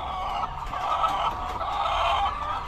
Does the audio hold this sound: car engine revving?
no